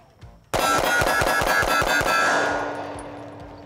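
Rapid string of sharp gunshots from a Sig Sauer P365 SAS pistol firing hot ammunition at a 15-yard range, about eleven loud cracks in quick succession, each ringing with a metallic clang before a fading tail.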